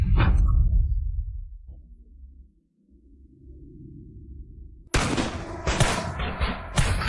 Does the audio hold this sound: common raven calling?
no